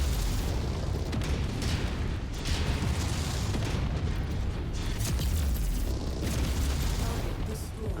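Mech anti-missile system in the MechWarrior 5 video game shoots down incoming missiles, a dense, continuous rumble of loud booms and bursting pops with sustained mechanical roar, no pauses throughout.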